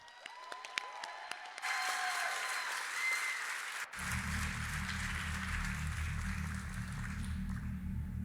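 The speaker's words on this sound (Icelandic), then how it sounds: "Gefum honum gott klapp." Audience applause at a youth music competition heat in Iceland for a young musician, a dense crowd clapping steadily and loudly for about eight seconds, with a low hum joining partway through.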